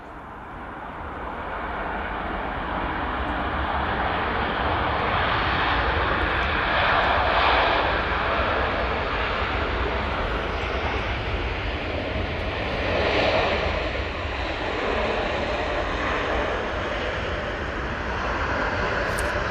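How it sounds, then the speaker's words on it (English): A Qatar Airways Boeing 787-9 Dreamliner arrives at Manchester Airport, its engine roar swelling from a distance into a loud, sustained broadband rush that peaks and slowly fades, with no voices. "It is the Qatar Airways 787-9 Dreamliner. Should be coming from yonder in the next few seconds."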